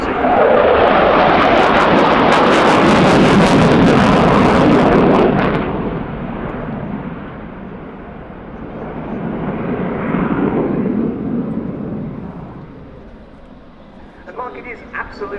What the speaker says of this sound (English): It is absolutely a heavy fighter, isn't it?